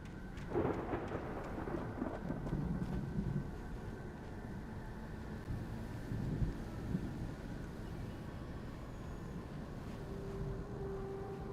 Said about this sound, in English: The storm raged on